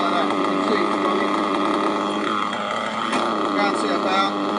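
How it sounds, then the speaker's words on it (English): Small model car engine running steadily at a high, buzzing pitch, loud and close, with no speech over it. "If your engine's set, it should run right like that. You can see it's running."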